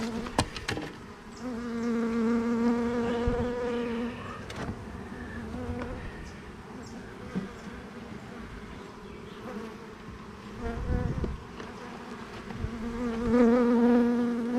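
Honey bees buzzing around a hive, a steady close drone of many wings rising and falling in pitch as individual bees fly past, alone without talk.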